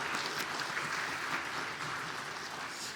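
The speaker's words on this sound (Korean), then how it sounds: "우리 격려의 박수," Congregation applause of encouragement during a Sunday church service, a steady dense patter of many hands clapping continuously throughout, moderately loud with no talking.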